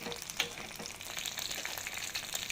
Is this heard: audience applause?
no